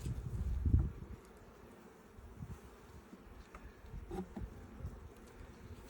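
Honey bees flying around an open hive during an inspection, a low, continuous buzzing close by with a louder pass at the start and occasional faint knocks.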